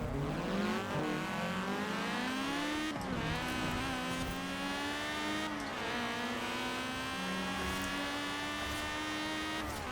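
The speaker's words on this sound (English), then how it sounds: "I love the way I can rev this thing out though" A car engine revs hard on a video game drag strip, a loud, close, continuous whine that climbs in pitch, drops at each gear change around every few seconds, then climbs again, with no talking.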